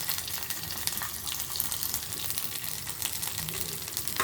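Garlic, mustard seeds, fenugreek, cumin and dried chillies fry in hot oil, giving a loud, continuous crackling sizzle up close with small pops and no talking.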